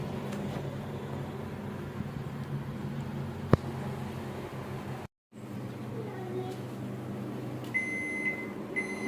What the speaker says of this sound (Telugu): బీప్ సౌండ్ వచ్చేసింది.